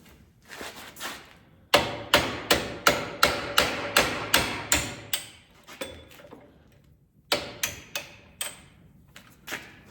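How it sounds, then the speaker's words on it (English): Steady, sharp metallic hammer strikes in quick succession, close up, driving pins into place, with a brief pause midway before another burst of blows. "a hammer to put them back in"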